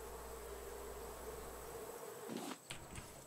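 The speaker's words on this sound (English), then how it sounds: "There are bees here." A thin, steady buzzing of bees in the video game Raft hums quietly throughout, broken near the end by a brief cluster of clicks or movement sounds.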